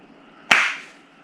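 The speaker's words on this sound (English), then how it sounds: "Can I do the clap?" A single sharp hand clap, close and loud, with a short bright decay afterward and near silence around it.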